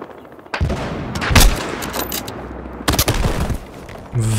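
Gunfire in the video game Battlefield Hardline, loud bursts of shots with a quieter gap between them, sharp cracks near the start and middle followed by more firing at the end, no talking.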